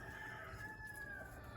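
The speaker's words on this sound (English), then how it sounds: "that's a rooster in the background" A rooster crows faintly in the distance, one drawn-out call carried over a quiet outdoor background.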